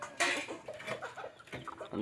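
A country chicken clucks a few times nearby on a farm at midday feeding time, short throaty calls separated by brief pauses, with some faint background noise.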